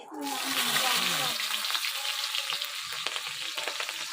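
Fresh green hill chilies dropped into hot oil with katla fish head set off a loud, dense sizzle that stays steady for several seconds, with a brief voice-like tone at the start and small crackles toward the end.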